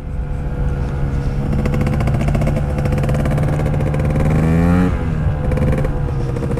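A Gilera Runner FXR 180 maxi-scooter engine drones loudly and close while riding, holding a steady buzzing pitch that rises with throttle before dropping sharply and settling again.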